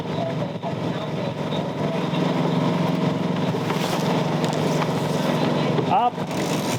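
Steady, loud engine drone of a sailboat motor-sailing under power on open water, continuous throughout with wind and water noise mixed in; voices talk over it.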